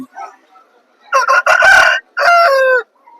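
A rooster of about three kilograms in good condition crows at the Sunday rooster market in Vijayawada; one loud, close cock-a-doodle-doo in broken phrases, preceded by a few soft clucks.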